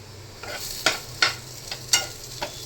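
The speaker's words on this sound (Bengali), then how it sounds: "আলু ভাজা হয়ে গেছে এবার গ্যাসের ফ্লেম অফ করে দিই" Potatoes fry with a steady sizzle in a frying pan on a gas stove, broken by five or six sharp scraping strokes of a spatula stirring them, close and clear with no talking.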